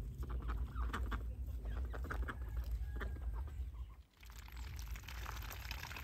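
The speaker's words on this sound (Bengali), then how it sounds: "হাঁসেরা এদিকে মহা ব্যস্ত হয়ে খাবার খুঁজছে।" Village ducks forage busily for food nearby, dabbling and splashing in water with soft quacks and clucking calls, a continuous close-up stream of wet rustling and bird noises.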